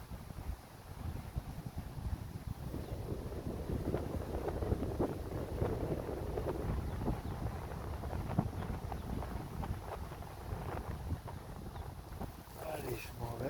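Steady wind blows outdoors near a cave on a nature outing, a constant low rushing roar buffeting the microphone for the whole stretch with no clear speech.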